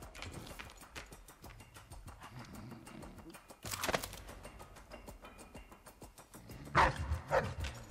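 A dog barks in the stealth game Dishonored 2, with quiet yaps and a couple of louder barks standing out against a soft, busy in-game background.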